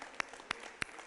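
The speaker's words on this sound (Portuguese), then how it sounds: "Vamos dar uma salva de palmas, amados." Three sharp, separate hand claps from a church congregation land at an even, unhurried pace, fairly faint against a quiet background.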